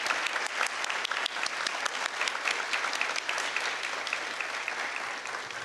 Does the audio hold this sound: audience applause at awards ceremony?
yes